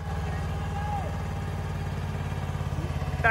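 A Mahindra Jivo 305 4x4 tractor pulling a loaded trolley, its diesel engine chugging with a steady low throb close by, the pulse growing slightly more labored toward the end, with faint voices and a brief squeak over it.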